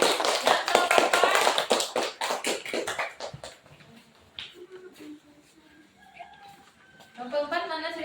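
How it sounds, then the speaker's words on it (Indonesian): A classroom of students claps for the second group, a burst of brisk scattered applause that fades after a few seconds, followed by quieter voices and talk. "Tepuk tangan buat kelompok kedua"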